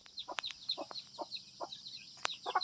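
Domestic chickens clucking in a short series of close, repeated bursts, with higher chirping calls running through the background and no talk.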